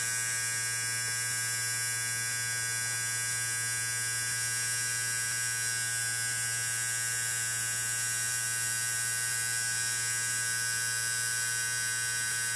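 An electric motor runs free with no charging load, a steady buzzing electrical whine with a strong low hum that holds nearly constant throughout, close and loud, no voices.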